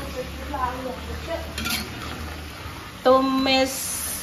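Eggplant tumis stir-frying in a pan, a steady spattering sizzle with occasional utensil clinks while a person talks over it in bursts.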